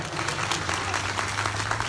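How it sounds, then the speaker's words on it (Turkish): An audience applauds at an apple festival speech, a dense continuous patter of clapping hands heard from within the crowd. "Kendisine hepinizden alkış talep ediyorum ayrıca."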